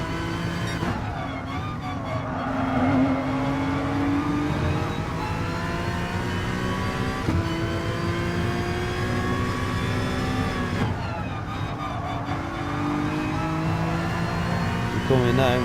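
A GT3 race car engine in Gran Turismo Sport, during an FIA manufacturer online race, drones steadily with rising pitch sweeps as it accelerates and shifts gears, loud and continuous throughout.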